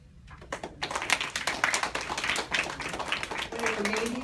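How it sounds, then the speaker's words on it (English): Clapping at an El Paso school for two girls, a close, uneven run of sharp individual claps by a small group, with a voice speaking near the end. "applause from these two girls."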